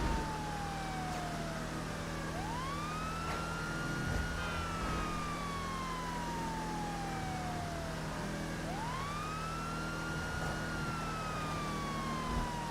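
A police car siren in Grand Theft Auto V wails in long rising and falling sweeps over a low steady engine and traffic rumble, loud and continuous through the whole stretch.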